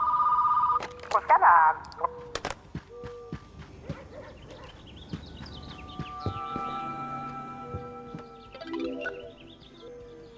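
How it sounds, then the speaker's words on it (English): A telephone in a shop rings at the start with a steady electronic trill and a couple of warbling bursts, then people talk over background noise. "I'm gonna go answer the phone"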